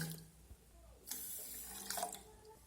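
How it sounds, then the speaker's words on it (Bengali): Water poured from a bowl into a bowl of sugar to make syrup for gulab jamun, a faint splashing pour in two short bursts, quiet and close with no talking. "এখন এই বাটি মেপেই দিয়ে দেবো দেড় বাটি জল"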